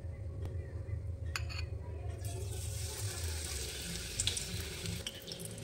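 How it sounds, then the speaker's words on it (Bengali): Battered onion flower slipped into hot oil for onion flower pakora, giving a steady broad sizzle that swells after about two seconds and continues over a low background hum. "এখন ব্যাটারের মধ্যে পেঁয়াজটাকে ডুবিয়ে তেলের মধ্যে দিয়ে দেব।"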